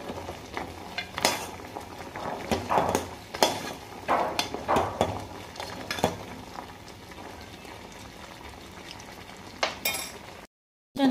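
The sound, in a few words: stirring sugar-coated khurma in syrup in a pan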